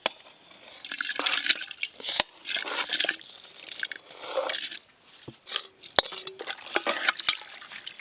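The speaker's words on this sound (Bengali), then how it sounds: "এই যে এবার মশলা আর চাল একসঙ্গে মেশানো আছে, দিয়ে দেব" Spiced rice mixture tipped into steaming hot water in a pot for Bengali khichuri, with a run of close scraping, clattering and stirring noises, intermittent sharp clinks of a utensil against the pot, and a soft liquid wash underneath.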